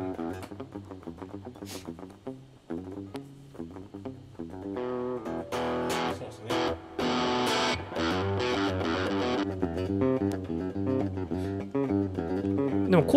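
Heavily distorted electric guitar played through an AmpliTube MESA Boogie amp simulation, chugging palm-muted riffs that open into loud, sustained saturated chords, continuous with no talking.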